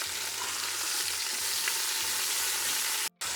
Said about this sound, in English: now while our lamb is browning